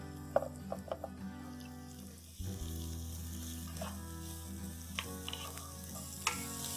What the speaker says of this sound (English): To this I'm going to add 3 medium-sized onions finely chopped.